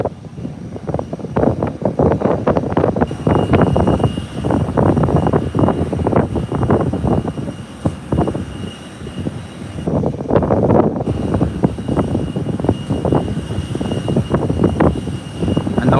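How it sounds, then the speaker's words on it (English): An American Airlines airplane taxis toward the runway for takeoff, its engines droning steadily at a distance with wind buffeting the microphone throughout. "And now American Airlines is rolling to the taxiway, heading onto the runway for takeoff."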